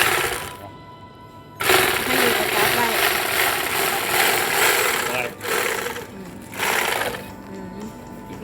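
A sewing machine stitches a 12-kilogram rice sack closed, a loud, close, steady mechanical whirr that runs for several seconds with brief dips and restarts.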